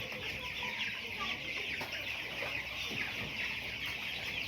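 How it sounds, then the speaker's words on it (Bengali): Thirteen-day-old broiler chickens on a small farm of about twelve to thirteen hundred birds cluck in a steady, overlapping chorus that runs throughout at moderate loudness. "এটা হচ্ছে ব্রয়লার মুরগি পালন করি আমি।"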